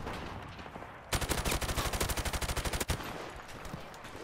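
Video game automatic gunfire: a rapid, loud burst of about two dozen evenly spaced shots lasting nearly two seconds, standing out sharply against quieter game ambience before and after.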